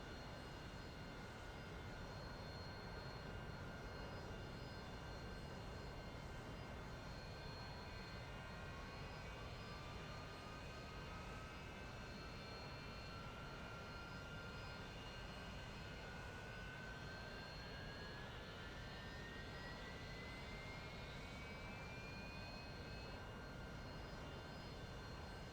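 A Harrier jet's engine spooling up for a vertical takeoff: a faint, steady turbine roar with thin whining tones that slowly climb in pitch, continuous and without voices.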